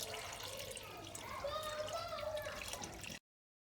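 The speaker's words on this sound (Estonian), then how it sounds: "nüüd tulevad need ämbrid veega tagasi" Water from buckets poured back into an aquarium splashes and trickles steadily for about three seconds, a soft close pouring sound that stops abruptly.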